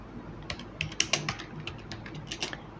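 Fingers type on a computer keyboard in a quick, irregular run of soft clicking keystrokes, close and fairly quiet, with no speech over it.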